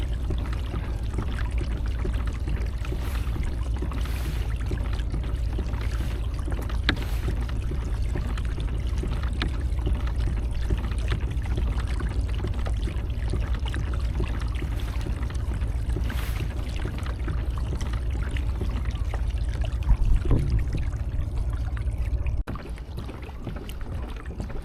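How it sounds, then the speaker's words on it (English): Kayak or small boat paddled up the River Tamar toward the Saltash Bridge, with steady water sloshing and paddle strokes over a continuous low rumble of wind and water, close and fairly loud throughout with no talk. "I'm paddling up towards the Salt Ash Bridge."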